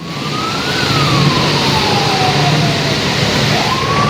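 Two ambulances crawl through a jammed arterial road at the Simpang 4 Palimanan junction on the Pantura route in Cirebon, heading toward Bandung, during the holiday homecoming rush, their siren wailing steadily and loudly over the surrounding traffic rumble.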